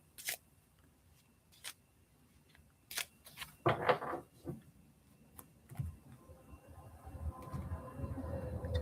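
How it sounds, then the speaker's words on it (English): Tarot cards are shuffled by hand in short bursts of papery riffles and taps, quiet and close, with a denser rustle at the end and no talking. "The cards are shuffling nice today,"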